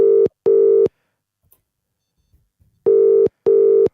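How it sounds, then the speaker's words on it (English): An outgoing phone call's ringback tone sounds as a double ring, two short bursts, then a pause of about two seconds, then another double ring. The tone is clear and steady, with no talking. "let's phone Gowie"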